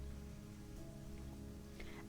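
Steady rain falling in a cyberpunk visual novel scene, a continuous fairly quiet hiss of drops hitting surfaces with a low background hum and no voices.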